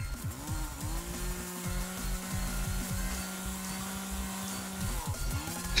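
Chainsaw cutting wood in the video game Escape The Backrooms, a steady droning buzz with sharp revving bursts at the start and end, held loud and close with no talk.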